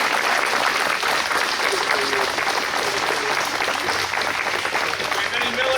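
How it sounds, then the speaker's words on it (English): An outdoor crowd applauds a World War II battle reenactor at a museum event, steady and dense clapping that carries evenly for nearly six seconds with faint voices mixed in. "How about a round of applause for a reenactor?"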